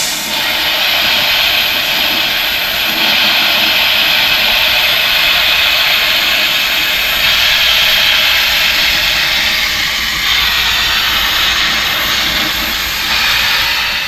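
A sandblaster roars steadily against a Willys wheel rim, a loud, continuous close-up hiss of blasting media that barely changes for the whole stretch, with no voices.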